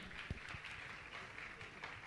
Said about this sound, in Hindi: ताली बजा के उनका सम्मान करें जोरदार